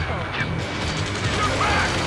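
Gunfire rattles during a ground firefight in the video game Ace Combat 7: Skies Unknown. Dense, continuous bursts and mechanical clatter run beneath urgent radio voices.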